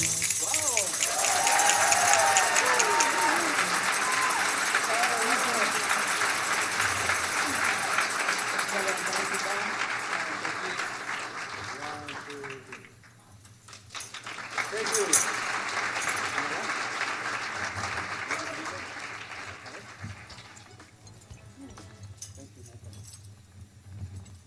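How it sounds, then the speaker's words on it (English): An audience at a Chamber of Commerce back-to-school breakfast applauds school students' performance with a long burst of clapping that fades midway, then returns in a second, softer wave, with voices talking over it. "Please give a round of applause to our students from Okehilly Middle School."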